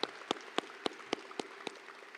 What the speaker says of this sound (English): Let's all give them a round of applause for their support.